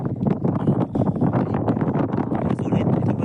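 Gusty sea wind buffets the microphone on a fishing boat out on the water, a continuous low roar with rumbling swells and rustle throughout, loud and close.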